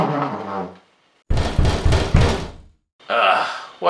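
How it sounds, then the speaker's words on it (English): Knocking at a door in a spoken folk-tale drama about a man meeting the devil, a run of several sharp raps in a loud burst after a pause, with talk before it and another voice after. "What does that knock at the door?"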